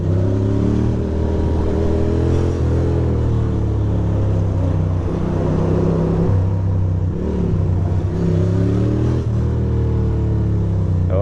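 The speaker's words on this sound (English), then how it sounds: "why is there so much traffic?" Road traffic around a rider on a bike, a loud continuous rumble of engines with rising and falling tones as vehicles pass close by.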